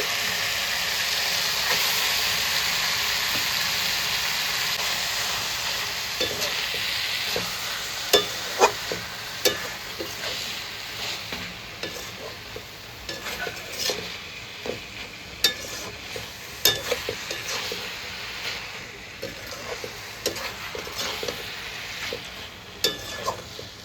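Pumpkin pieces sauté with fish heads in a pan, giving a steady sizzling hiss, with a spatula stirring and scraping at intervals in sharp clicks that grow more frequent toward the end.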